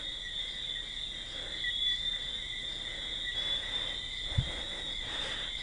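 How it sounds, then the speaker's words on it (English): Tree frogs calling at night keep up a steady, shrill high-pitched chorus, continuous and fairly faint, with a constant layered trill and no voices, plus one brief low thump near the end. "Those are tree frogs."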